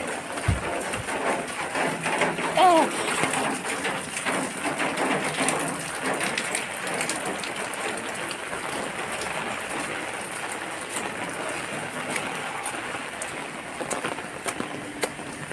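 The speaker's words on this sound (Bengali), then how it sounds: "এটা হচ্ছে কত বৃষ্টি হচ্ছে, এই বৃষ্টিটা সব জায়গাতে হচ্ছে।" Rain falls hard and constantly over a road, a broad steady wash of noise with a brief thump near the start, otherwise unchanging and close.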